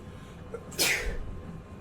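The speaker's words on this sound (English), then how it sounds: "I'm sneezing." A single sharp sneeze bursts out close to the microphone during a Diablo IV session, with a short breath before it and quiet background afterward.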